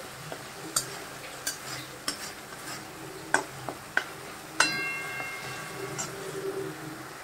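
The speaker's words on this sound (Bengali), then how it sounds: "মশলাটা কষা হচ্ছে" Spice paste frying in a pan gives a soft background sizzle broken by repeated sharp clinks and scrapes of a spoon against the pan, roughly once a second, close and fairly quiet.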